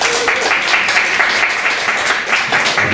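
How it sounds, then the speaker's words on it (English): Concert audience at a recital in Sofia applauding the contestants, loud dense clapping filling the hall evenly from start to finish, with no talk over it. "another round of applause for all of the contestants tonight."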